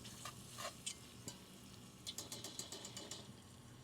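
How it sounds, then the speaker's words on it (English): A spoon scrapes and stirs through smoked sausage gravy in a cast iron pan on a Big Green Egg, with soft sizzling underneath. The taps and scrapes are fairly quiet and come in an irregular rhythm, with no voices. "And we're going to mix that in here."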